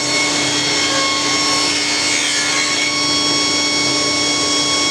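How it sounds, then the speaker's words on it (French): A circular saw cuts grooves in Douglas fir wood for a garden shed door, a loud, continuous whining roar with steady high tones sustained from start to finish. "je fais mes rainures à la scie circulaire"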